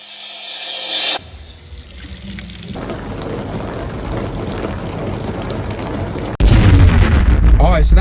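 A GE dishwasher filling with water: a steady rushing hiss of water builds and holds for several seconds, then gives way to a louder, fuller surge near the end, with no talk.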